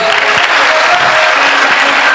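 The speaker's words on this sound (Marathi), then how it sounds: "जोरदार टाळी त्या साऊंड दादासाठी वाजवा" Loud, dense applause from a hall audience at a Marathi folk performance of gondhal and bharud, steady and sustained throughout with scattered claps standing out.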